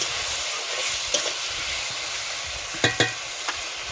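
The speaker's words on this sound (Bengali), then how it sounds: "এখন আমি সেই গুলে রাখা মশলাটা দিয়ে দেবো। দিয়ে আবার আমি ভালোভাবে এটা নাড়াচাড়া করে নেব।" Spice paste being stirred into pumpkin cooking with potato and Malabar spinach in a pan, a steady sizzle under a few sharp scrapes and knocks of the spoon against the pan.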